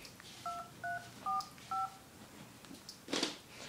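Four short two-tone keypad beeps in an even rhythm, clear and close, followed by a brief burst of noise near the end.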